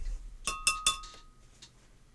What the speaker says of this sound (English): I'm going to rinse off my paintbrush